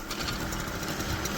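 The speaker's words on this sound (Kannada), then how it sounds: "ಗಾಡಿ ಎಳಿಯೋ ಸೌಂಡ್ ಬರ್ತಾ ಇದೆ ಅಷ್ಟೇ." Two-wheeler TVS engine laboring under strain, a continuous buzzing motor drone held at steady loudness throughout, fairly close, with no one talking.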